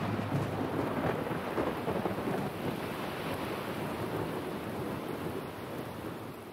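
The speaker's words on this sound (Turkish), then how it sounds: "Fırtına ansızın patlıyor." A sudden thunderstorm at a crane construction site: a steady, broad roar of heavy rain and wind with a low thunder rumble beneath it, loud and enveloping throughout, no voices.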